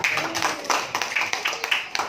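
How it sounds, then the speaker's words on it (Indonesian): Children in a third-grade classroom clap together for a classmate, with quick uneven bursts of hand claps mixed with young voices calling out. "Tepuk tangan untuk Ataya, bagus"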